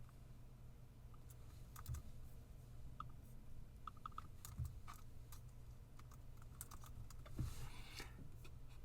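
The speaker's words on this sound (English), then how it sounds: "let me go and try to manually type it in" Someone types a search on a computer keyboard in quick, uneven bursts of soft clicks with pauses between them, close and fairly quiet, with no one speaking.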